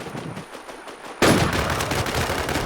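Rapid automatic gunfire from the video game Infest bursts in suddenly about midway and keeps going as a dense, loud, continuous volley.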